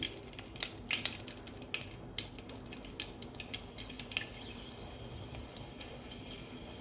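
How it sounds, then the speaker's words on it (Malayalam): Fenugreek seeds sizzle in hot cooking oil for a sardine curry, a faint, close crackle of quick popping ticks that is busiest early and settles into a thin steady hiss. "ഓയിൽ ഒഴിച്ച് ചൂടാകുമ്പോൾ കുറച്ച് ഉലുവ ഇട്ട്"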